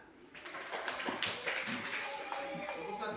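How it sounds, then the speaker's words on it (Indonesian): Classroom students clap together in a burst of quick, overlapping hand claps, moderately loud and close, with voices mixed in beneath the clapping. "Coba kita tepuk tangan."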